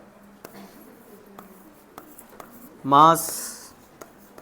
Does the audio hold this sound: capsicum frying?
no